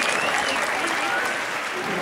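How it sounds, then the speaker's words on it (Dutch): An audience claps warmly after a performance at a town festival, dense continuous applause close by, with voices mixed in. "Noch einmal einen schönen, kräftigen Applaus für Martina."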